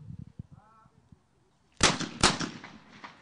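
Two sharp, loud shotgun blasts ring out in quick succession at a men's double trap shooting final in Minsk, following quieter commentary voices.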